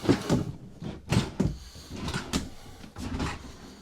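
Soft-close cabinet drawers in the bedroom of a KZ Durango 302RLT fifth wheel trailer, several soft thuds and sliding rumbles spaced about half a second to a second apart, close by, with no talking.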